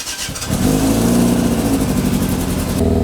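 A warmed-up four-cylinder engine roars up from a low idle into a sustained loud rev, held close and steady for a couple of seconds before easing off.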